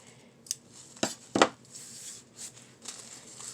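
Scissors trimming a plastic sheet protector, a few sharp snips and crinkly plastic rustles spaced irregularly over a few seconds, close and fairly crisp.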